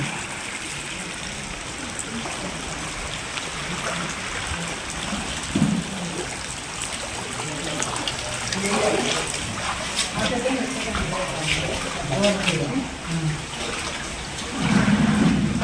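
Rainwater rushes and splashes steadily into a building during heavy rain, a continuous flowing noise, while people talk over it.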